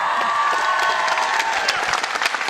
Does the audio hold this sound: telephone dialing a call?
no